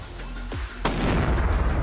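A .308 rifle fires Federal Power Shock 150-grain ammunition into a test block: a sharp, loud report followed by a second sharp crack and a sustained booming rumble, with no talking.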